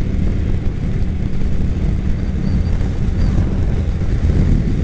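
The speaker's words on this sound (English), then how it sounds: "let's pick up throttle and pass him and see what he does." A motorcycle on the freeway throttles up to pass another rider on a Ducati, its loud, steady engine roar and heavy wind rush filling the whole stretch without letup and with no speech.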